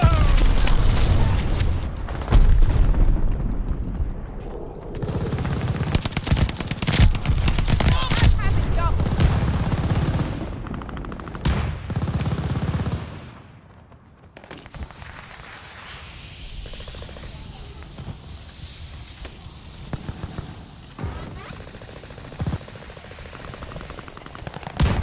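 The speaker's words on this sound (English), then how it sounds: "They're sending mortar shells!" Mortar shells and gunfire in Call of Duty Modern Warfare 2, with dense bursts of shots and booms through the first half, then quieter scattered shots and rumble, with a voice talking over the action.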